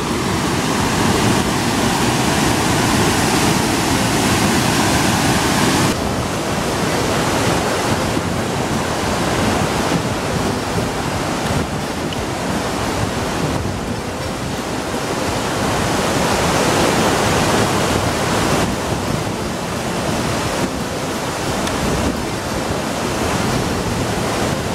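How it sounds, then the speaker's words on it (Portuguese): A powerful waterfall roars continuously, a dense broadband rush of falling water that fills the whole stretch without pause. "Essa é a segunda cachoeira"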